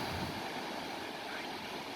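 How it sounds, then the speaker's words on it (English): Ocean surf washes continuously onto a misty, foggy beach at Mavilette Beach, a loud steady roar with wind noise and no talking. "We're getting to the waves."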